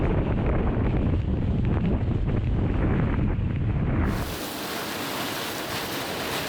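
Strong wind buffets the microphone in a loud, steady roar on a Scottish mountain in winter, then eases to a lighter, hissing rush of wind for the last couple of seconds.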